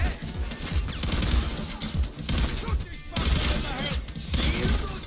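Rapid gunfire from a shootout in Payday 2 rattles continuously in dense bursts, loud and close, with a voice talking over the shots.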